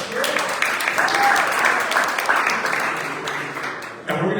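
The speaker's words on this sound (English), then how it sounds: "give them a round of applause" Applause at a mayoral forum for a neighborhood association, a dense crowd of clapping hands that holds steady before tapering, with a brief voice rising over it near the end.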